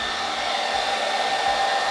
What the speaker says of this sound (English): And use a blow dryer